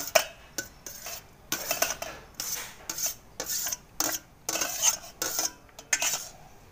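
Chopped potato, tomato, onion and green chilli being mixed in a bowl with a spoon, rhythmic clinking and scraping strokes in short bursts, close and fairly quiet.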